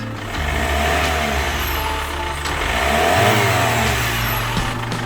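A Chevrolet Captiva facelift diesel engine revved up from idle, a steady mid-pitched clattering drone that swells and rises in a long rev before settling, heard close and alone.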